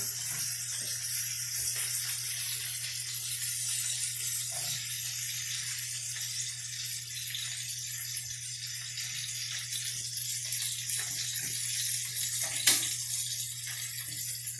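Chicken pieces sear in a pan for paprikash, a steady, close sizzle hissing evenly throughout with small clinks of the pieces being moved around.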